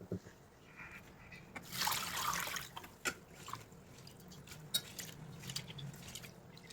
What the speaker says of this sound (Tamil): இதை ஒரு 2 டைம்ஸ் நல்லா வாஷ் பண்ணி தண்ணியை வடிகட்டி எடுத்துக்கலாம்